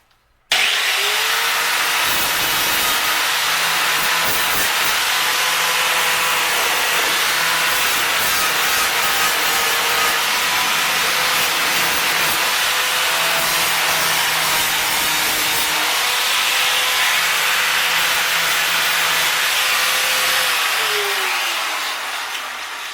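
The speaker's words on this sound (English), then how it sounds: "And when grinding your edges, you want to go pulling towards the edge" An angle grinder smoothing the edges of a Jaguar door panel during repair: a loud, continuous close-up whine with a harsh grinding hiss that holds steady for about twenty seconds, pitch dipping slightly under load, then trailing off.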